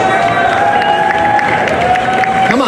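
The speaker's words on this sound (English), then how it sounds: "How about a round of applause?" Audience applause and cheering for the chairman of the day, Mr. Steve Shore, as a continuous crowd roar of clapping, with a sustained tone underneath.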